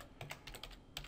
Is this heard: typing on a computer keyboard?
yes